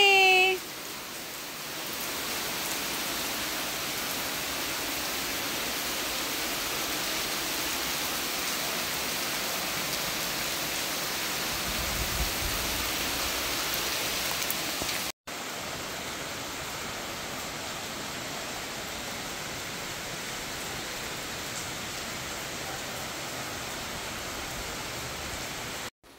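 Monsoon rain falls as a broad, even hiss that holds steady throughout, with a brief voice at the very start.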